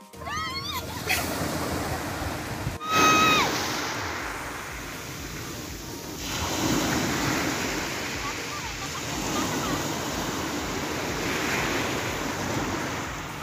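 Sea surf at a beach in Santa Ana, Cagayan, rolls and washes in a steady broad roar with wind buffeting the microphone. A brief voice and a sharp bump come near the start.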